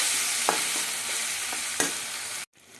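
A spoon stirs soybean curry seasoned with salt and turmeric in a hot pan, the scraping strokes landing at irregular intervals over a steady sizzle before the sound cuts off abruptly near the end.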